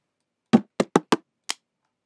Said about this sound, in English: Knocks.